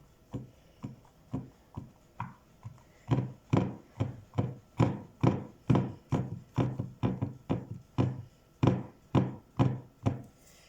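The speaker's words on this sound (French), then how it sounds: "maintenant je vais piquer la pâte pour pas qu'elle gonfle à la cuisson" A fork pricking quiche pastry dough in a pan: a steady series of about two dozen soft, dull taps, close and evenly spaced, with no talking.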